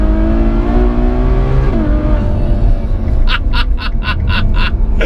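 A Ferrari GTC4 Lusso engine on tight, twisty roads drones loudly and close, its pitch climbing then dropping, with brief rapid popping bursts near the end.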